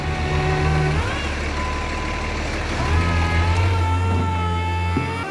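A vehicle idles and creeps while its tires are turned, a steady close engine drone with shifting whine tones and a small rise around the midpoint, no talk.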